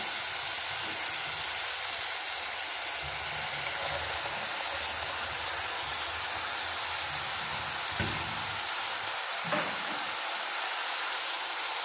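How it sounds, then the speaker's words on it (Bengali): Lubia beans poured into a hot pan send up a steady, broad hiss of sizzling oil that holds evenly throughout, broken by a few soft clicks and stirring knocks. "এখন আমি ঢেলে দিব লুবিয়া।"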